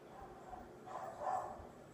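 A dog barks somewhere behind a closed door in a house, muffled and fairly faint, with a couple of soft yips rising in the middle of the stretch.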